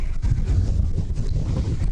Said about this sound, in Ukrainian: Вітер, правда.